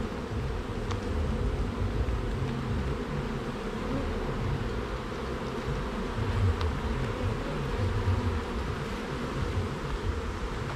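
Honeybees buzz around an opened hive during an inspection, making a steady, close, continuous drone that fills the whole stretch with no talking.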